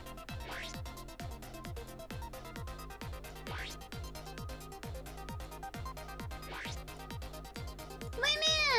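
A cat meows several times in a row, faint, with a rhythmic clicking or tapping pattern running steadily underneath and a brief burst of other sound at the end.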